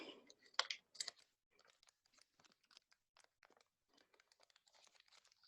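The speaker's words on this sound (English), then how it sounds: "crinkly package." A crinkly plastic perfume sample package is handled close up, with a few louder crackles at the start and then soft, sparse rustles.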